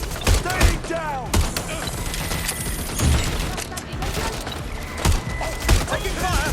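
Watch Dogs: Legion firefight: repeated heavy gunshots crack out in irregular bursts amid chaotic combat noise, with shouting voices mixed in.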